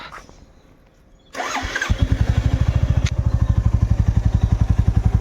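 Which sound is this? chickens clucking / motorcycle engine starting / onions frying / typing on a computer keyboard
motorcycle engine starting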